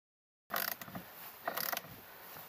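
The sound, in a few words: tightening nuts and bolts on boat motor mount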